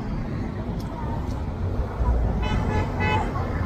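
A clearing-operation truck turns around in a city street: a steady engine rumble mixed with roadway traffic noise, brief horn toots, and people talking over it.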